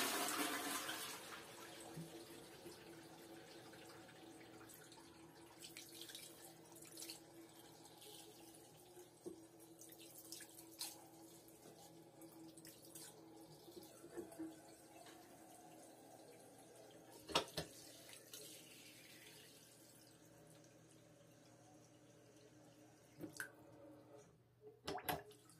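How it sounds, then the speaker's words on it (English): Newly installed bathroom sink tap running and a toilet in a new toilet room, faint steady water flow with a few splashes and knocks, quiet and fairly close. "Here's the toilet, and the sink and everything working"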